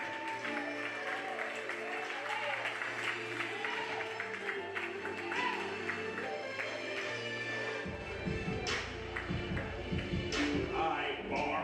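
Open mic night audience applauds a performer, a steady patter of clapping and crowd murmur over a low hum, growing denser in the second half.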